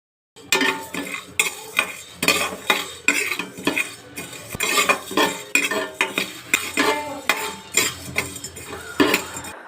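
Black peppercorns, coriander seeds and cumin dry roasting in a pan over medium flame, with repeated rhythmic scraping and stirring clinks of a utensil against the metal pan, fairly loud and close, no talk.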